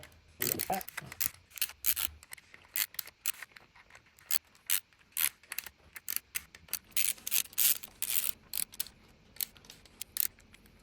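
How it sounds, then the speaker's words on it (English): Camshaft cap bolts being tightened on an engine during a camshaft install, a rapid series of short metallic ratcheting clicks in uneven bursts, close and fairly quiet. "So we're just going to gently tighten this one a little bit."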